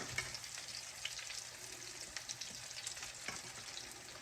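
Salmon croquettes fry in a pan with a steady, dense sizzle and crackle of hot oil, close and constant throughout with no voices.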